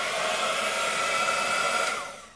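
A handheld embossing heat gun blows hot air over embossing powder on a card, a steady loud whooshing roar held for a couple of seconds before tapering off at the end, with no voices.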